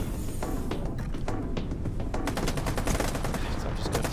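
Rapid gunshots in the shooter game STALKER 2: Heart of Chornobyl, a dense string of sharp close-range cracks packed tightly together over a steady rumble of game noise.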